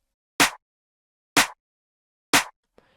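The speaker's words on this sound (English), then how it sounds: "Then there is a 3 clap layer," Three layered clap hits of a music production sample, from a dance-producer style drum pack, sound at an even one-second pace, each a sharp bright snap with a short tail, alone in silence.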